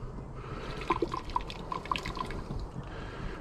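Hot water sloshes and drips in a container while gold residue is rinsed clean, with scattered small droplet plinks and a soft watery wash, close and fairly quiet.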